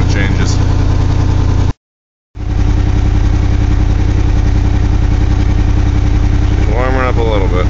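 A 1982 GMC S-15 pickup's rebuilt carbureted engine idles steadily during a cold warm-up at 35 degrees, a loud, even, close low rumble that runs continuously apart from one short cut, with a brief voice near the end.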